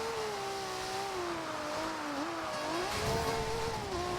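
A car engine in the racing game Forza Horizon 2 drones steadily in fourth gear, its pitch rising and dipping slightly with throttle changes, loud and continuous with a brief surge near the end.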